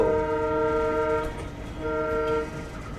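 An Intercity Express train travels near Rajkot Junction, its horn sounding loud and close in two sustained blasts over the steady rumble of the moving train.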